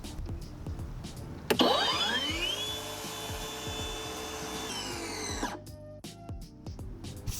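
A Kobalt 24V brushless battery tile saw spins up with a sharp whine, holds a steady high-pitched motor hum for about four seconds, then stops quickly with fast braking.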